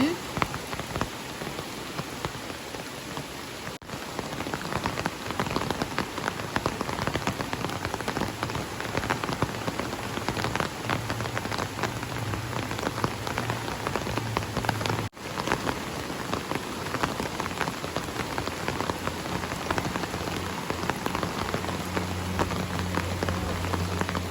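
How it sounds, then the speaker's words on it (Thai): Steady, dense rainfall pattering on a surface throughout, with close drips and a constant broadband hiss, no voices. "เสียงฝน"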